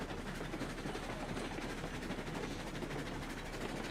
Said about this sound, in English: Watch the train derail for no apparent reason.